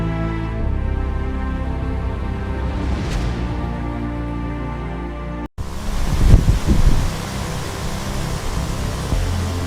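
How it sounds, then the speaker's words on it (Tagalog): Strong wind roars steadily through trees, a continuous broadband rush with a brief cut midway, then gustier surges. "Dahil sa malakas na hangin na tumatama sa mga puno"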